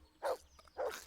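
Two muffled barks from a dog, spaced about half a second apart, fairly faint over a low background hum.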